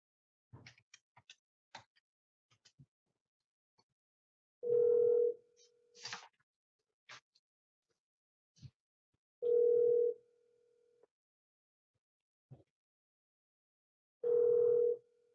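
A telephone call to a number rings through as three evenly spaced low tone pulses, each about a second long and roughly five seconds apart, with faint scattered clicks and ticks in the quiet gaps.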